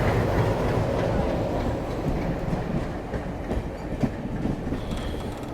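Passenger express train on the MGR Chennai Central to New Jalpaiguri route, approaching New Jalpaiguri, with steady rumbling wheels and rhythmic clickety-clack over rail joints heard from aboard, fairly loud and continuous throughout.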